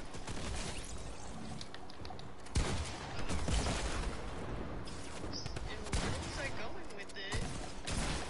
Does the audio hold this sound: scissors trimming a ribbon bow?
no